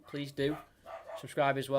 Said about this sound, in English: Sorry about the barking there, if you can hear that.